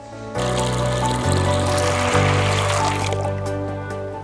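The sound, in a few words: cold water poured over soaking soybeans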